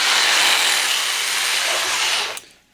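A metal trivet piece for an ammo can double-burner rocket stove being cut to length with a power tool, a loud, close, continuous grinding hiss lasting over two seconds before it cuts off abruptly.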